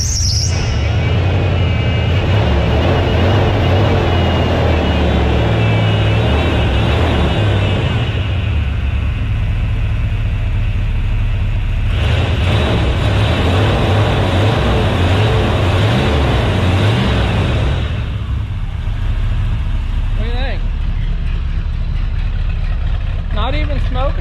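A Ford F-350 shorty truck's old 460 V8 runs at a steady, rough idle throughout, loud and close, with people talking over it.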